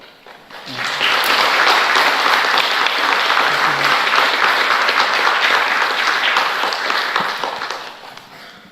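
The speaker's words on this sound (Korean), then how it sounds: "우리가 박수로 환영하면서 하나님 앞에 영광 돌리겠습니다" A church congregation applauds to welcome a missionary from Mexico to the pulpit: sustained, dense clapping swells in after a second and holds steady for about seven seconds before tapering off, filling the room.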